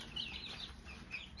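Turkey poults and chicks in their new home give soft, quiet clucks and chirps, several brief calls overlapping close by with a faint hum behind them.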